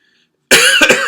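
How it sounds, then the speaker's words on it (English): A single loud, harsh cough bursts out after a brief silence, close to the mic, with a second rougher push near its end. "I have a little bit of a cough"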